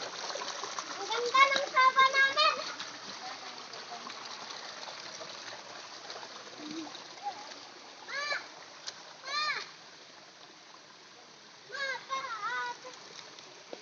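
Water splashes in short bursts as someone wades through a shallow stream, with a voice and other talking over steady outdoor background noise.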